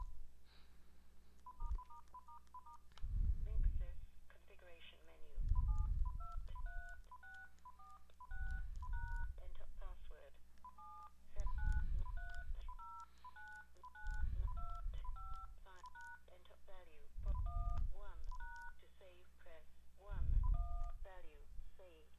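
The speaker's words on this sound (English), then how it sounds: "Dial 1 pound and 1, and then hang up." Telephone keypad DTMF tones dial a short sequence, 1, pound and 1, on a Linksys SPA2102 phone adapter, the dual-tone beeps sounding in brief bursts alongside low thumping noises throughout.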